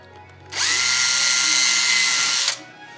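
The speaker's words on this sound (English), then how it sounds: "to pre-drill for the nails so as to not split." A power drill bores a pilot hole for nails in hardwood for a white oak tool cabinet, a loud, close two-second whine that starts and stops abruptly between quiet moments.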